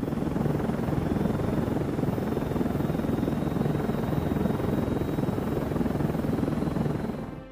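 Soviet Mil V-12 heavy helicopter rotor: a loud, continuous, throbbing thrum that holds steady and fades right at the end.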